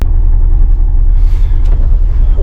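A 2022 Polaris Ranger Northstar UTV fitted with rubber floor mats is driven, heard from inside as a loud, steady low engine and drivetrain rumble with faint rattles and no talk.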